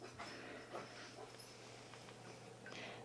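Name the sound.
dog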